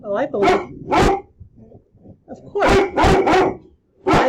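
A dog barks repeatedly indoors, loud and close, in short bursts with brief pauses between, while someone talks over and between the barks.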